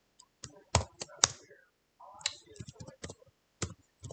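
A computer keyboard clicks in short, sparse bursts of a few keystrokes each, close and crisp, while a person talks between them.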